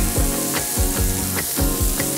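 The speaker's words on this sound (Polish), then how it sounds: "już stan smażenia jest idealny dla mnie" Meat sizzles and crackles loudly in a hot pan, a steady frying hiss with a few clinks or scrapes recurring throughout.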